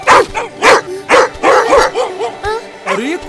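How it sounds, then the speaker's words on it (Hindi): Cartoon dogs bark repeatedly in a Hindi animated film, a run of loud, close yaps and woofs in quick succession, with a short whimpering tail at the end. "अरे ये कुत्ते क्यों भौंक रहे हैं?"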